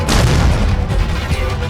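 A loud explosion blast in the visual novel game Deus Machina Demonbane, a dense roaring boom that fills the whole moment and rumbles on without a break.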